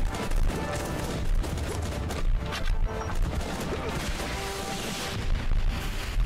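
Rapid gunfire and explosive blasts from a napalm strike in the multiplayer war game Guns Up, dense overlapping crackles and booms under a steady roar, with a voice talking now and then.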